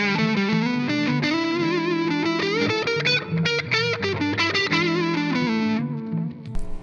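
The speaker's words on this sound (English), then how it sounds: "Put the RC booster on it." An electric guitar with single coil pickups plays through an Xotic RC Booster pedal, giving a steady, driven, slightly distorted tone in a quick run of notes before a sudden stop.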